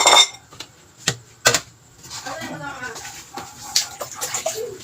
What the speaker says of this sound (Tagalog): Hugasan ko yung aking malunggay.